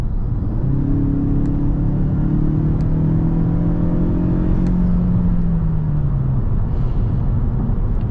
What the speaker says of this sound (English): Man, I hope y'all was able to hear that turbo.